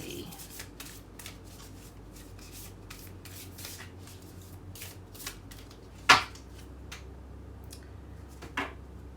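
Moonology oracle cards are shuffled close by, producing a steady rapid riffling and rubbing that runs throughout, with a couple of sharper slaps near the end.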